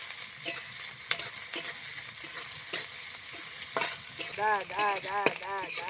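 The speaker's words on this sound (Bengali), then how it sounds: "জিরে আদা বাটা দিয়ে দিলাম। নাড়াচাড়া করে শাকটা দিয়ে দিলাম।" Ginger-cumin paste and pea greens fried with browned onion and garlic in a pan, stirred with repeated scraping strokes over a continuous hiss of sizzling, close and with no talk.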